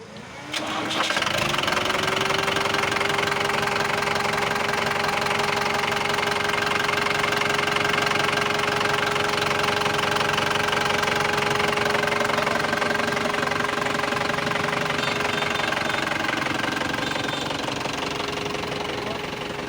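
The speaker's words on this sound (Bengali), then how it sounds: "ভাই, ইঞ্জিন স্টার্ট দেন।" A vehicle engine cranks and catches, then idles loudly and steadily nearby with a knocking, rumbling tone that holds throughout.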